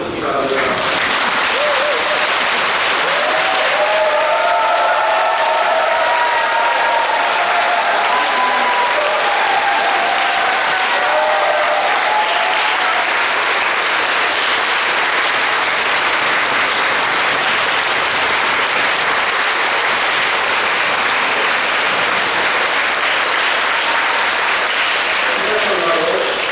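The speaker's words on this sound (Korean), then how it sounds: "신부님께서 나오시면 모두 일어서시며 큰 박수로 환영해 주시기 바랍니다" A standing audience gives long, dense applause to welcome a retiring parish priest at his retirement ceremony at Jamsil 7-dong Catholic Church, sustained and loud throughout, with faint voices or tones rising briefly in the early part.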